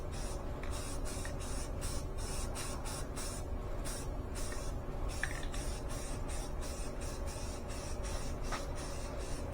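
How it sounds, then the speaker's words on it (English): A spray paint can, warmed indoors beforehand, sprays paint onto new fender flares for a Suzuki Samurai in a steady string of sharp hissing bursts, close and loud, with short gaps between them and no talking. "I had the forethought to take my spray paint into the house so that the can itself would warm up"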